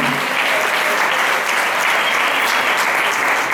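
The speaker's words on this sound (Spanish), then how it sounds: "le damos un aplauso por lo bien que ha conducido el acto de presentación" An audience at an Aragonese dance presentation breaks into dense, sustained applause, loud and even from start to finish, with no break in the clapping.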